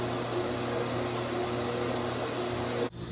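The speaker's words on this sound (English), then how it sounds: "we're now putting them on the spiral sander" A steady mechanical whir of a spiral sander fitted with a small sanding drum, shaping wooden model-ship frames, hums continuously at moderate volume, then cuts off abruptly near the end.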